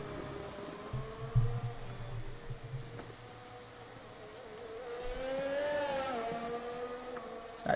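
McLaren race car engine screaming down a straight in a racing video game, a high whine climbing through the gears with a sharp rev swell near the end and other car engines droning in the background.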